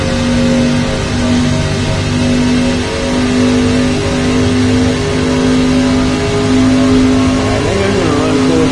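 A NASCAR truck's engine in the racing game NASCAR 25 revs and accelerates, a steady, loud, droning motor tone that holds for several seconds and climbs slightly in pitch near the end.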